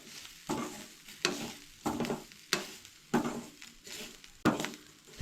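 Homemade garam masala being mixed into a Goan red cowpea coconut curry, with five or six distinct spoon-stirring scrapes in a regular rhythm over a quiet background sizzle, close by.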